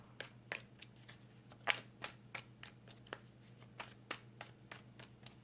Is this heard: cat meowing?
no